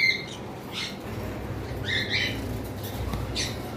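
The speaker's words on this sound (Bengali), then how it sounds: "এইখানে এক পেয়ার ইয়েলো সাইডেড কোনর রয়েছে" Yellow-sided conure parrots give several short raspy squawks at a bird shop, moderately near, over a steady background murmur.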